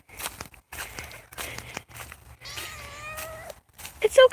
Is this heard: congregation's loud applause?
no